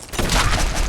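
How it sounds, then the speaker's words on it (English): Gunfire in Fallout 4, a short loud burst of rapid overlapping shots that merge into one dense crackling volley, close up with no talking. "Opening fire."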